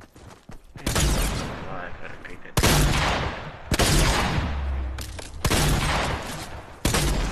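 Bursts of loud, close automatic gunfire in a video game, several long volleys separated by brief pauses, dense and echoing.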